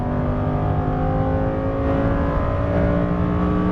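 A Lamborghini Huracan Performante at full throttle on a track, its engine roaring loud and steady with rising harmonic tones through about four seconds of hard acceleration, close and continuous with no talk.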